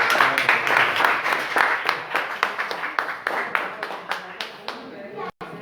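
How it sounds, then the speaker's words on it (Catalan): Applause for Núria after a children's story presentation, a dense round of clapping from a crowd that gradually thins into scattered claps before stopping abruptly. "ens fem un aplaudiment de veritat a la Núria"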